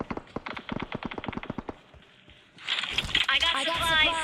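Rapid automatic AK rifle fire from a video game rattles off in a steady burst of sharp shots, then stops and gives way to a louder, noisier game sound.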